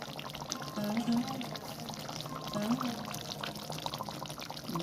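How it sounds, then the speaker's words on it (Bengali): A little water is poured into a Bengali fish curry of bhola fish with potato and eggplant as it simmers in the pan, giving a steady liquid pour with soft splashing over a low kitchen hum. "একটু জল দিয়ে দিই।"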